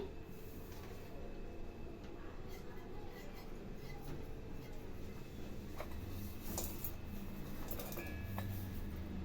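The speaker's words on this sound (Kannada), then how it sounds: "ಈಗ ನಾವು ಮಿಕ್ಸರ್ ಮಾಡ್ತೀವಿ." A mixer grinder runs continuously while grinding coconut and spices for sambar, a steady, dense whirring roar that holds at an even level for the whole stretch, close by with no pauses.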